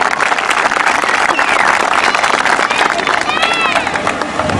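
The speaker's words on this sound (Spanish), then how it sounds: "Aplauso, aplauso más fuerte para el Dibu." A crowd applauds for Dibu at a comedy show in Mar del Plata, dense, loud clapping filling the clip with cheering voices and babble mixed in.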